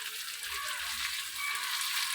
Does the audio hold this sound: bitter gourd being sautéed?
yes